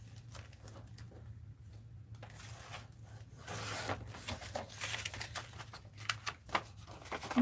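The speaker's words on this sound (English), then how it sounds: "I'm going to trim this" Paper being trimmed with scissors for a mixed-media art journal, a run of soft crisp snips and rustles that grows busier and louder toward the end, close by with no talking.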